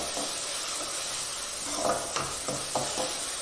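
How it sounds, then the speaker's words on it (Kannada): Ginger garlic paste fries in oil with a steady close hiss and sizzle, broken by a few short scraping stirs of a utensil against the pan toward the end. "ಈ ಶುಂಠಿ ಬೆಳ್ಳುಳ್ಳಿ ಪೇಸ್ಟು ಹಸಿ ಸ್ಮೆಲ್ ಹೋಗೋವರೆಗೂ ಚೆನ್ನಾಗಿ ಹೀಗೆ ಎಣ್ಣೆಯಲ್ಲಿ ಹುರ್ಕೋಬೇಕು"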